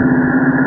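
Steady low rumble from the exhaust of a 1969 Ford Mustang Mach 1 V8 while driving, even and moderately loud, a brief unbroken stretch with no voices.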